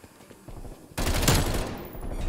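Bullfrog submachine gun fired in Call of Duty Cold War, a quiet lead-in giving way to a loud, sustained rapid burst of automatic fire lasting over a second, then continuing chatter of shots in a multiplayer match.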